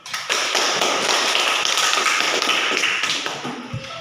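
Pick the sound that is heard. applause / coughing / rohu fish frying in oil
applause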